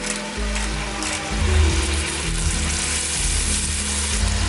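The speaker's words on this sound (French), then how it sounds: "je vais rajouter l'oignon, l'échalote grise. Je vais bien mélanger le tout, je vais faire revenir pour une autre minute" Chopped onion and grey shallot sautéing in an Instant Pot with pork chops cooking, a steady loud sizzle with low stirring rumbles close by and no talking.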